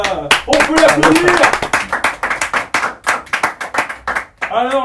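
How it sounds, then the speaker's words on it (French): Audience on a French comedy show claps for a guest being introduced, a loud burst of close, crisp hand claps with voices talking over and around it. "On peut l'applaudir."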